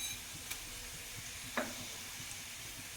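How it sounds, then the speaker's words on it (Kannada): Sesame and coriander seeds sizzle softly in a pan while cooking pudina avalakki, a faint steady hiss broken by a couple of light clicks of a spoon stirring. "ಈಗ 1 ಸ್ಪೂನಷ್ಟು ಧನಿಯಾ ಹಾಕ್ತಾ ಇದ್ದೀನಿ"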